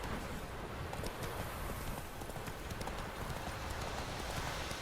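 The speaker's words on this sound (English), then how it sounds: "Whoa there, Roach." Horse hooves clip-clop steadily at a brisk walk in the video game The Witcher 3, a continuous rhythmic patter of hoof falls under faint ambient noise.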